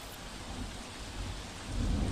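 Steady rain over Ahmedabad with low thunder rumbling beneath, a dense, unbroken hiss of falling water that swells slightly toward the end, with no voices.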